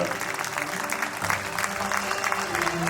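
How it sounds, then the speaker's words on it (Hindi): An audience applauds for their parents at a live event, dense steady clapping that grows fuller partway through, with crowd noise and a few voices mixed in. "हम सभी खड़े होकर प्राउडली अपने पेरेंट्स के लिए ताली बजा सकते हैं"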